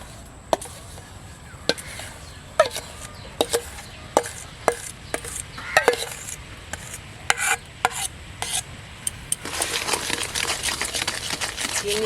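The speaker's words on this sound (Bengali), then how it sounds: "রস আর তালটাকে ভালো করে গুলে নেব" Palm fruit pulp is stirred into sugar syrup for homemade palm ice cream: a spoon taps and knocks against the pot at an uneven pace, then a denser scraping swirl takes over near the end.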